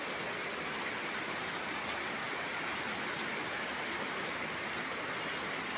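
Heavy rain pours down from above in the Maldives, a steady dense hiss with no breaks, soft in level and with no voices.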